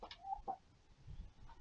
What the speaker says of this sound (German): Da ist eine ganze Reihe Hühner.